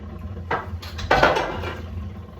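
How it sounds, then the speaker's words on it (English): A metal scrubber scraping a pot that was soaked in boiling water, two short bursts of harsh scratching close by with clinking metallic sounds between them. "now I'm scratching it with this little metal scrubby"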